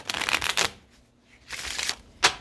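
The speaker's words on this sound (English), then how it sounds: "Shuffle one more time." Playing cards being shuffled at close range before a home card game, in two loud riffling bursts with a quiet gap between them and a short snap at the end.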